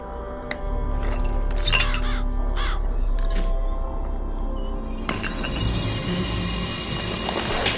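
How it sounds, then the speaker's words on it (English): The murderous crows called by a Vigor in the video game BioShock Infinite arrive as a flurry of loud caws with sharp glassy shatters and clinks, then give way to a denser, noisy swirl of sound. "Press to summon murderous crows."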